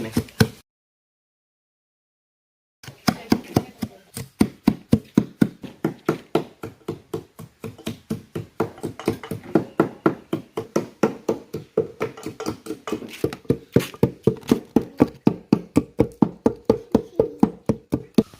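A chapati rolling pin crushes ice cubes for Kerala-style avil milk: after a brief thud and a pause of silence, a long run of sharp, rhythmic pounding strikes, about three per second, close and loud.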